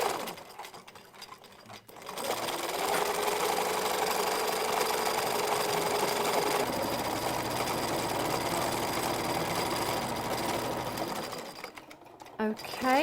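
A sewing machine running fast and continuously for free machine embroidery, a steady close whirring and rapid needle chatter that starts near two seconds and stops near eleven seconds.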